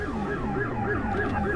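A wailing police siren cycles up and down repeatedly over steady engine rumble, loud and continuous, with a slightly synthetic game-like tone.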